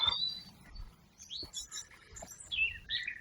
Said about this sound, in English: Some rather glorious birds sung along here.